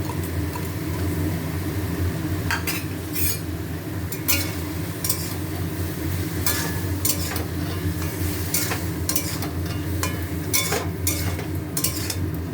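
White and black mustard paste sizzles in a pan alongside nearly cooked tomatoes, a steady low frying hiss broken by scattered sharp scrapes and taps of a spatula stirring against the pan.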